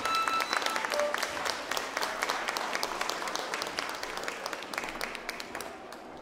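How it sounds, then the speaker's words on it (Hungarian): An audience applauds young folk dancers about to perform Sárköz dances at a children's folk music and dance festival, a sustained wash of many hands clapping that gradually fades. "Nagy tapsot kérünk nekik"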